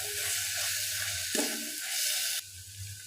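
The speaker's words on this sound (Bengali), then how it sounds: "এবার এর মধ্যে দিয়ে দেব বেশ কয়েকটা চেরা কাঁচা লঙ্কা, দিয়ে আবারও ভালো করে ফ্রাই করে নেব।" Onion posto with slit green chillies frying in a pan, a dense close sizzle that surges and dips as the mixture is moved, no talking.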